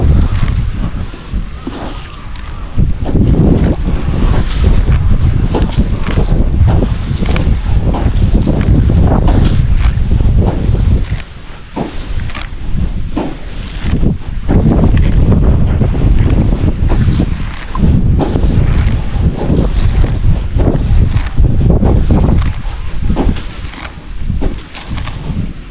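Strong typhoon wind roars continuously at close range, buffeting the microphone in heavy gusts for the whole stretch, with no voices.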